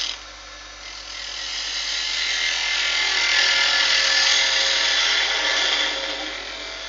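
A workpiece being drilled through for a hole in a woodworking job, one steady continuous bore rising slightly in intensity and then easing off, close and alone with no talking.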